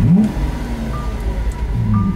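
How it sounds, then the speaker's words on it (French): A Lamborghini Aventador's 700-horsepower V12 engine fires up with a loud, close rumble that settles into a steady idle, with a brief rev near the start. "on va faire un petit start-up de la Lambo"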